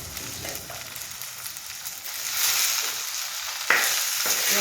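Boiled tarota greens fry in a pan over a village chulha, giving a close, continuous sizzle with stirring scrapes. The sizzle grows louder partway through, and one sharp clatter stands out near the end.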